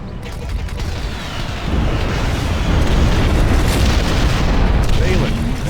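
Bombers pound a hacked Nexus in the real-time strategy game Ashes of the Singularity: a dense, loud, continuous roar of overlapping explosions swells after a second and keeps rumbling to the end.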